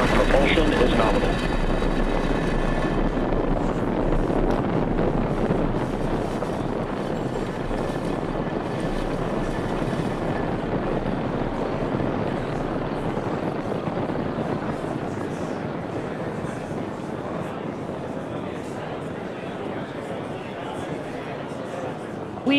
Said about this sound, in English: Engines full power. And liftoff of Transporter 8.